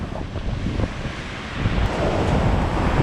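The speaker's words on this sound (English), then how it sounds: "we're going to get belted by this wave" Ocean waves surge against a rocky island headland in a steady, loud wash, mixed with heavy wind buffeting the microphone and building slightly toward the end.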